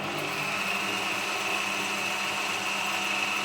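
Bosch PBD 40 drill press motor running at its first speed, a steady close whine with a constant hum, unbroken and alone throughout.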